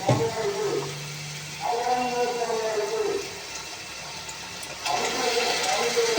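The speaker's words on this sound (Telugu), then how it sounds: "ఇప్పుడు నేనైతే దీంట్లో చింతపండు రసం అయితే వేసేస్తున్నాను" Tamarind juice poured into a cooking pot of simmering okra for a fish curry, a close, gurgling liquid splash in bursts, pausing and resuming, with talk in between.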